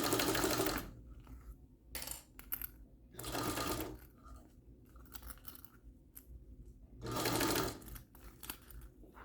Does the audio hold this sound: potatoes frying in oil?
no